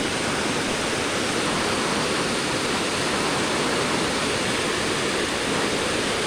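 Rain falls on a river in the Konkan countryside during the monsoon, a dense, even hiss of water that stays constant and fairly loud throughout with no breaks.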